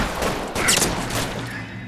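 A single gunshot in LA Noire cracks out with a brief, loud, bright burst, its reverberant tail fading over the following second.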